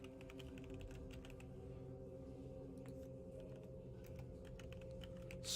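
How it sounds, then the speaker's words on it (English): Computer keyboard typing runs steadily throughout as a continuous clatter of keys, fairly quiet and close, with no talking, as a tabletop game character sheet is filled in. "I'm going to scoot this over to make typing a little bit easier here."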